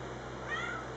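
Gray kitten meowing faintly among a litter on a hot day, a soft high cry rising briefly midway over a steady low background hum, with no talk.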